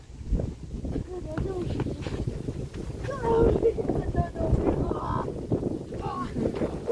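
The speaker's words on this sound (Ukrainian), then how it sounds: "вітер сильний" Strong wind beside an unmowed village football field buffets the microphone in a continuous rumbling roar, with people talking faintly underneath.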